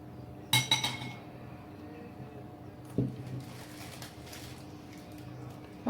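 A spoon clinks sharply against a glass dish while custard is mixed for a fruit trifle, with a quick cluster of taps early on, a single knock midway and a final tap at the end over soft stirring.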